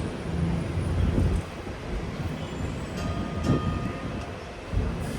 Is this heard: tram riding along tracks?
yes